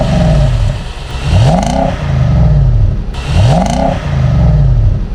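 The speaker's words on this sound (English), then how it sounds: "you want to hear the full-throated roar of that V8, then the exhaust diverts" Nissan Patrol Warrior V8 revs twice with its exhaust valve open, each throttle blip rising into a loud, deep roar and falling back to a rumbling idle, close and alone.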